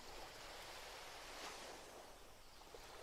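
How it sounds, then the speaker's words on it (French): Ocean waves surging and crashing against the base of a lighthouse, a steady broadband roar of surf with slow swells, continuous and fairly distant, with no voices. "Tu sens les vagues de plus en plus grandes qui viennent claquer"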